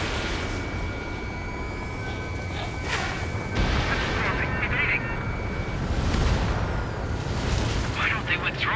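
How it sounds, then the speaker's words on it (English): Missile launch in the Ace Combat 7 air combat game, a sustained roaring rush of rocket and jet noise with booming bursts, heard over a voice speaking. "Missile away."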